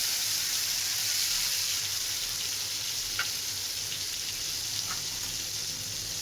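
Ginger-garlic paste sizzles steadily in hot oil with browned cumin seeds, a loud continuous frying hiss with a couple of faint stirring clicks, no voices.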